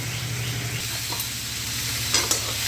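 A dry masala with jaggery is stirred and sautéed in a pan until the jaggery melts: a constant close sizzle with scraping strokes and a couple of sharp utensil clicks toward the end, under a low steady hum.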